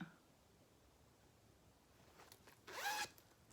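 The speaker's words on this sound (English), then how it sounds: "And here's the zipper pull for that." A single quick zipper pull on a fabric pouch near the end, a short bright rasp lasting about half a second after near silence, with a faint rustle before it.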